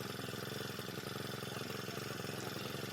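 Steady close-up idle of a four-stroke power sprayer engine, a continuous even chugging hum at constant level with no voices.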